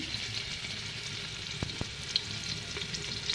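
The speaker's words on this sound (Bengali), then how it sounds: "এই যে আমার তেলটা গরম হয়ে গেছে, এখন দিয়ে দিব রসুন কুচি" Chopped garlic fries in hot oil, a steady soft sizzle with faint crackles and a couple of small ticks running throughout, with no voices.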